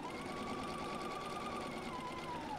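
Sewing machine stitching quilt pinwheel pieces, a continuous close mechanical whir with a steady fast needle pulse and no talk over it.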